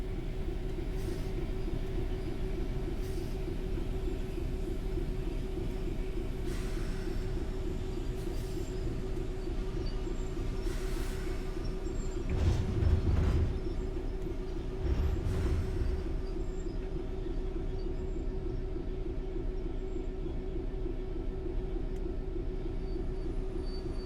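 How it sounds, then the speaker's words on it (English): A train in a simulator game with freight wagons behind it brakes to a stop on the direct brake: a steady low rolling rumble with short bursts of brake hiss midway, then settling quiet, no voices. "come to a stop using the direct brake now"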